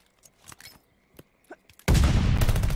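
Burst of loud, dense gunfire from a Call of Duty match erupts near the end, after a stretch of quiet scattered clicks and faint game sounds.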